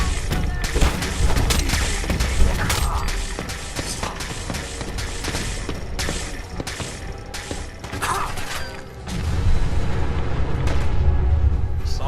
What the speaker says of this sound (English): Something blew up.